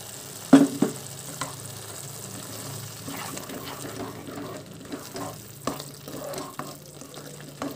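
A prepared paste is stirred into stuffed eggplant curry (gutti vankaya) frying in a pan, giving a low steady sizzle with a few clunks of a spoon against the pan.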